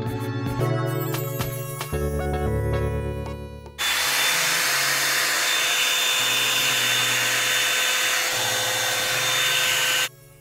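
A Revlon blow dryer brush used on natural hair runs with a loud, steady whirring roar. It changes pitch and grows louder partway through as the setting shifts, then cuts off near the end.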